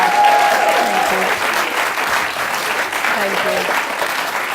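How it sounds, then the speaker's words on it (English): An audience gives a round of applause at an evening event, loud sustained clapping from a crowd, with voices heard over it. "they have a round of applause for the most amazing interviewer"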